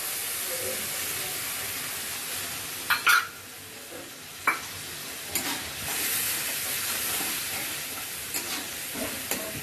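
Rinsing water from a stone spice grinder poured into frying spices for a loitta (Bombay duck) dish, giving a sustained broadband sizzle and hiss with a few sharp bursts as the liquid hits the hot pan.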